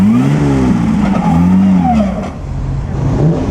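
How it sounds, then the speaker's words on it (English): A vintage Riley car drives past at the Mille Miglia road race, its engine loud and close with a rising and falling drone as it passes by, a rough mechanical note, then fading slightly as it moves away. "ooh, and a Riley. Gorgeous Riley. I don't know about the noise coming out of it"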